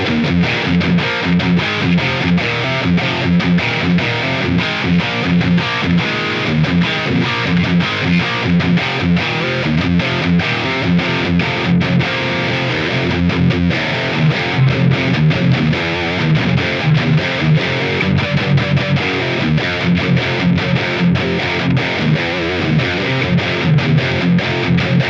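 Heavy, thick distorted electric guitar through a Line 6 Helix modeling the Badonk amp into a powered cab, played as continuous driven riffs with sustained, dense chords for the full stretch, loud and with no voices.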